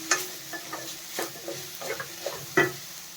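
Mint leaves fry in a pan for a hotel-style chutney, giving a soft sizzle broken by several quiet scraping stir strokes, close by and with no one speaking.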